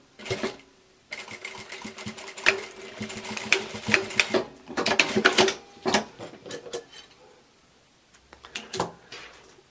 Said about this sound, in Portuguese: Aí agora eu vou costurar.